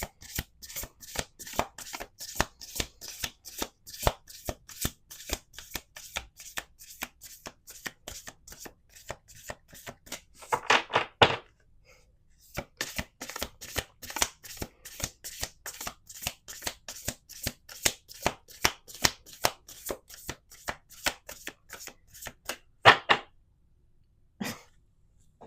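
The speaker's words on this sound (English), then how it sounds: "We're going to do 2 more shuffles." Repeated riffle shuffles of playing cards, rapid fluttering bursts in a steady rhythm with short pauses between, close and crisp.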